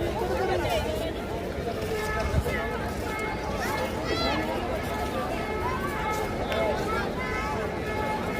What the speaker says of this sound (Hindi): बहुत भीड़ है आज आमेर में